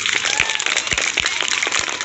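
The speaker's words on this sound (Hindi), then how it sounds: "एक बार जोरदार ताली हो जाए आप लोग।" A school audience at a junior debate competition breaks into applause, a dense steady patter of many hands clapping in a hall for a couple of seconds with no pause.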